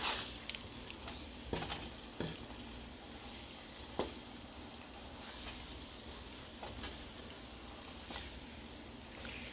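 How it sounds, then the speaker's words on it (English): Seafood stirred in a pan of sizzling butter sauce: a constant soft frying hiss with occasional scraping clicks of the utensil, close and fairly quiet, no voices. "Stir it around a little bit."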